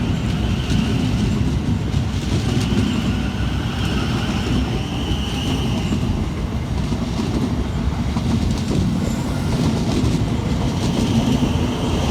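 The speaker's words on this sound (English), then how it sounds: "Passing through on the fast for Southern is 377115 and 377457, working 1H37 from Littlehampton through to London Victoria." Two coupled Southern Class 377 electric multiple units run through Purley station on the fast line, a steady loud roar of wheels and traction noise with rhythmic rail clatter throughout, close by and uninterrupted.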